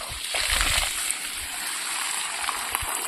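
Water runs from a hose at the far end of a garden watering line, splashing and sloshing in short bursts before settling into a steady faint flow.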